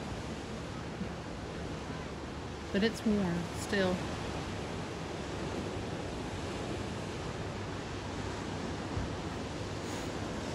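Steady, hissing surf rolls onto the sand at Panama City Beach on an overcast fall day, continuous and fairly close, with a brief spoken remark early on.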